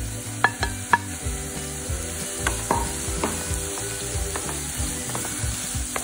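Onion and two-colour capsicum sautéing in a pan for chilli paneer: a steady close sizzle with a few sharp utensil taps and scrapes early on, over soft background music.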